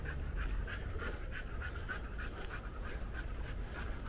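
A puppy pants rapidly and rhythmically close by on a humid Philadelphia street, breathy regular pulses over a constant low outdoor rumble.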